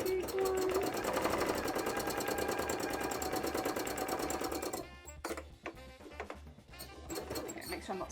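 A sewing machine does free-motion embroidery on cosplay fabric with a loud, rapid, steady mechanical chatter for about five seconds, then stops and gives a few short, uneven bursts.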